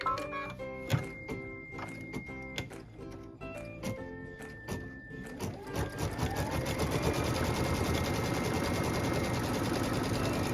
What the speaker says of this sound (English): go ahead and stitch the tack down line